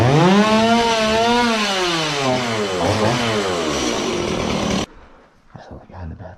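A video-game chainsaw roars loudly and steadily for nearly five seconds with its pitch wavering up and down, then cuts off abruptly, leaving faint rustling and movement sounds.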